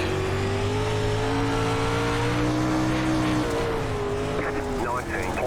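A dirt late model race car in iRacing at Port Royal Speedway roars at steady high revs as it slides through a slick corner, a loud continuous engine drone with the pitch dipping slightly, under a speaking voice.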